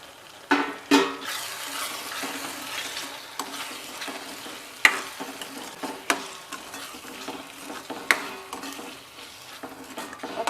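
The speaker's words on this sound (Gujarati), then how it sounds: "મકાઈના દાણાને મસાલા સાથે મિક્સ થવા દઈશું" Corn kernels sizzle with spices in a pan for a corn spinach sabji, a steady moderate frying hiss broken by repeated sharp scrapes and clinks of a spoon stirring against the pan.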